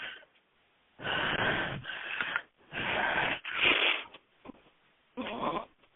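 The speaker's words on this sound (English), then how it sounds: "Nice breathing." Deep, slow breaths in a guided breathing exercise, several long raspy inhales and exhales separated by short quiet gaps, close and fairly loud.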